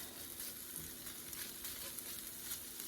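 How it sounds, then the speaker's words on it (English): Diced ham frying in a pan for ham and pineapple fried rice, giving a steady soft sizzle with faint crackles throughout and no talking. "we're just gonna go ahead and cook this for a few minutes until the ham"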